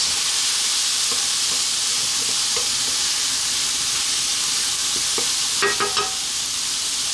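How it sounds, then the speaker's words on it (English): Mushroom pasta sauce seasoned with basil, oregano, black pepper and salt is given a quick stir in a pan, a steady sizzling hiss with light scrapes and a short burst of utensil clatter near the end. "Give that a quick mix."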